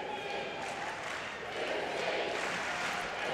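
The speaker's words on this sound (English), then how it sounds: "Now the crowd is screaming for Lucie." Arena crowd at the 2014 European Championships in Montpellier screaming and cheering to back a competitor, a dense roar that builds slightly and holds for a few seconds, heard from within the venue.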